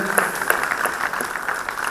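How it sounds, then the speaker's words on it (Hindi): Applause for the chief guest at a national seminar on ancient and spiritual sciences, a dense steady clapping from the audience that holds at one level for about two seconds, with no voices over it. "जोरदार तालियां"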